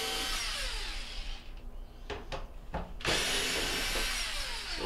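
A power drill spins out square-bit mounting bolts on a Frigidaire washer, its high motor whine running loud and steady, dropping out for about a second and a half with a few short bursts before the whine comes back.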